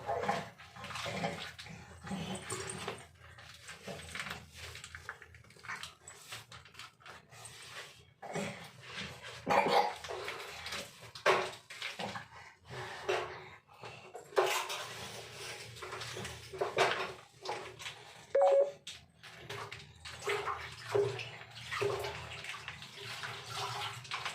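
Water splashes and runs while a floor is being washed and cleaned. The sloshing comes in irregular, close bursts with short pauses between them. Faint scrubbing and a dog's whimper can be heard now and then.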